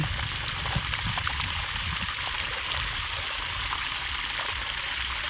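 Water flows and trickles steadily nearby, a continuous bright splashing babble with no pauses and no speech.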